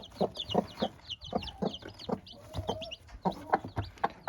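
A hen in a coop gives a rapid series of short, fairly close clucks in an uneven rhythm, with small bird chirps between them and no talking.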